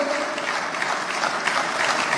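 Steady applause from an audience honoring the governor at the Alaghodaro 2021 event, a continuous dense patter of clapping at moderate volume throughout.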